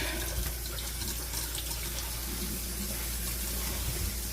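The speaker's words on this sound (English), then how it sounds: "And water coming out of the sink." Water streams continuously from an RV faucet into a sink, an even splashing hiss over a low steady hum, with no one speaking.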